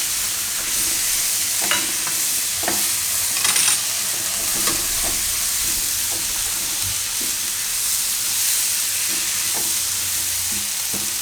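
Tomatoes hiss and sizzle as they go into a hot pan while cooking a Gujarati dudhi dal pulao. A steady frying crackle runs throughout, with scattered stirring clicks and a brief burst of steam.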